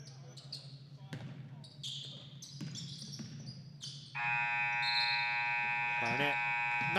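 A loud, sustained game-ending buzzer blares in a basketball gym, cutting in after sneaker squeaks and ball bounces and holding steady over crowd and court noise.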